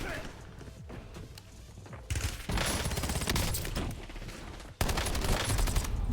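Rapid bursts of submachine gun fire crackle in two loud volleys in Call of Duty: Black Ops 7 Warzone, separated by a brief quieter stretch, with game-like sound effects and no speech.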